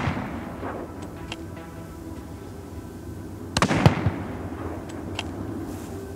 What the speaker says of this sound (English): I put a shot into him